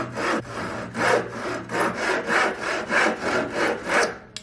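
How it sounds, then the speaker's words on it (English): A handsaw makes a small angle cut in hundred-year-old farmhouse door wood, giving about ten rhythmic rasping back-and-forth strokes, close and clear, with no talking. "Whenever I do these little small angle cuts, I generally just like to use a handsaw."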